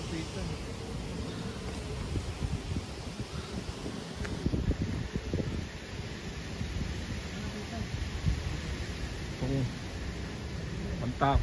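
Steady gusting wind high up at a large Lady Buddha statue in Vietnam buffets the microphone with a low roaring rumble and rustling throughout.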